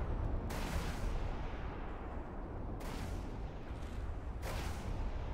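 Naval artillery guns in From the Depths fire three heavy shots at ships, spaced a couple of seconds apart, each a sharp booming blast over a constant low battle rumble.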